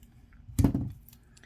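Aluminium craft wire for a suncatcher is snipped once with a small cutter, a single close, faint metallic click in an otherwise quiet room.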